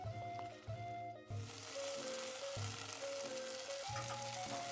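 Mutton coated in yogurt sizzles steadily as it roasts in hot oil, a close, continuous crackling fry broken by soft stirring scrapes, with quiet tonal music underneath and no talking.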